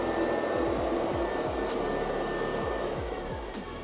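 A Scout RX3 robot vacuum cleaner runs with a steady close whir and motor hum, with a repeating series of quick descending sweeps as it moves, and no talking.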